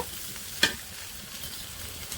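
Fried potato and green banana pieces are stirred in a wok of hot oil, with a steady gentle sizzle and one sharp metallic clink of the spoon early on.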